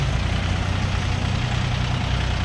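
A Dongfeng 244G2 four-wheel-drive mini tractor's engine idles steadily, a low, even diesel rumble held close and continuous throughout.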